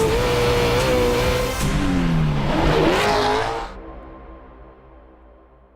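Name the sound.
Baja 500 race truck motor revving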